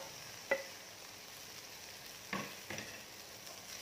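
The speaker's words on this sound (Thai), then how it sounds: "ค่ะเอากุ้งขึ้นแล้วก็เอาหมูใส่ลงไปค่ะ หมูก็คั่วเหมือนกันค่ะ" Pork stir-roasting dry in a pan over medium-low heat, with a steady faint sizzle punctuated by a sharp utensil scrape near the start and a couple of softer stirring scrapes later.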